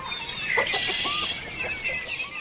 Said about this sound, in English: tag along with one of their organic pasture-raised hens as she heads out for her day in the pasture